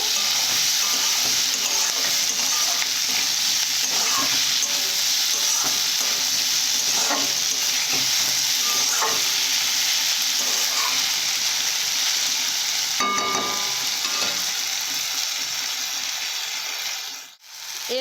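Onions frying with salt in a pan, a dense steady sizzle under intermittent scraping strokes of stirring, close and even throughout before dipping briefly near the end.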